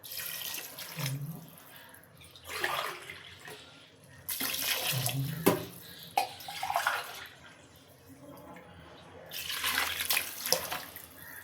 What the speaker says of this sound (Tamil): இதே டம்ளரில் வந்து நான் தண்ணி ஊற்றிக்கிறேன்